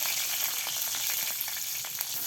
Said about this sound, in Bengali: মুরগির মাংস রান্নার জন্য তেল দিয়ে দিয়েছে, কাঁচা মরিচ দিয়ে দিল আর শুকনো মরিচ